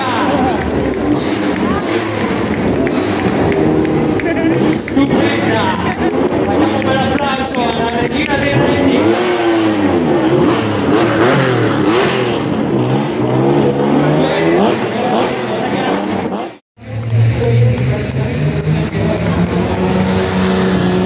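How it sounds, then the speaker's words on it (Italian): A historic 1977 BMW rally car revs as it arrives at a Rallye Monte-Carlo Historique stage in Biella, the engine loud and sustained under a commentator's voice and crowd noise, with a brief drop to near silence near the end. "ti stanno bellissima vettura in arrivo questa BMW"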